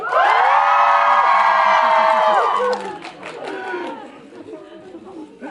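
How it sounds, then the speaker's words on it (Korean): A cinema audience at a film stage greeting in Yongsan, Seoul, shouts and cheers together on cue in one loud burst lasting under three seconds, then settles into scattered chatter and a few calls. "우리 다 같이 그러면 속 시원하게 소리 한번 칠까요? 손 한번 치고 박수 한번 크게 지르는 걸로 하나 둘셋"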